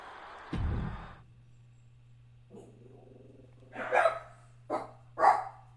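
Dogs bark in a few sharp bursts close by, spaced apart, after a brief thump and over a low steady hum; no one speaks.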